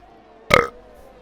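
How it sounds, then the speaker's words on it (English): A single short, loud, throaty burp right up close, lasting about a quarter second against a quiet background with faint hum. "Sorry, shit burps at the moment, guys."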